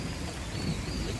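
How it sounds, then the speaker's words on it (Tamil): Rain falls during a cycling trip toward Coimbatore, a dense, even rush of noise with a low thunder rumble underneath, steady and fairly faint over a brief moment. "மழை வராதுன்னு நினச்சோன்னா நல்ல மழை வந்தது."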